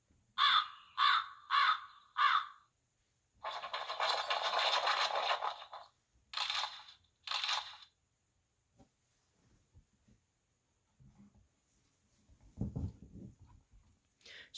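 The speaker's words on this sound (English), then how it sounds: "as the crows called a warning to Snow White" Crows caw in a forest, first four quick harsh calls in a row, then a longer raspy burst and two more caws, clear and nearby before the scene fades to quiet rustling.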